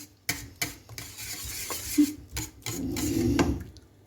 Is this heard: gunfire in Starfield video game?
no